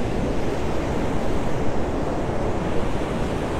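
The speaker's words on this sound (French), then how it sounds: "comme si nous regardions les vagues ensemble" Ocean waves break on the shore in a dense, continuous roar of surf with a little wind buffeting the microphone, steady and close, with no voices.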